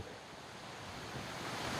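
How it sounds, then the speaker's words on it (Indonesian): Steady roar of a steep waterfall near a river bathing spot, a dense broadband rush of falling water that holds evenly throughout with no voices. "Ini air terjun."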